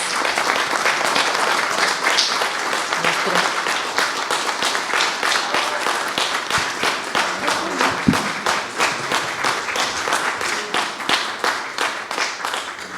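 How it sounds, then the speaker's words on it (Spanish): Steady, dense applause from a sizable crowd, continuous and loud throughout with no pauses. "Un aplauso para todos ellos"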